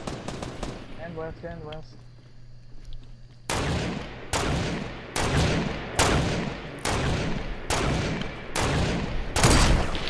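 Fortnite gunfire: after a brief spoken word and a quiet stretch, a string of loud, rapid shots and bursts repeats at regular intervals, close and harsh, dominating the rest of the span.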